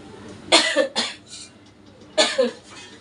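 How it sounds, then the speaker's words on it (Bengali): Two bursts of coughing close by, the first a pair of quick coughs, the second a short double cough after a pause. "মনে হচ্ছে কাশি শুরু হবে"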